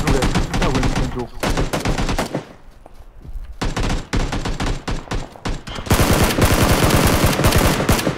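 Gunfire from a player shooting in a video game, loud, dense automatic bursts that fill most of the clip, with a brief quieter lull in the middle before the rapid firing resumes.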